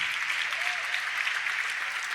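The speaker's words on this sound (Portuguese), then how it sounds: "Aplauda o Senhor" A church congregation applauding during a communion service at a cathedral, a dense, even wash of clapping that holds steady throughout at moderate volume.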